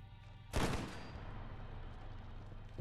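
A single loud gunshot in the video game Fallout London, one sharp blast followed by a lingering echoing tail that fades slowly into the ambient game background.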